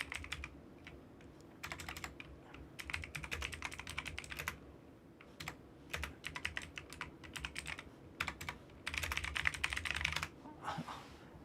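Rapid clicking on a computer keyboard comes in bursts and short pauses, close and clear over a low background hum, with no talking.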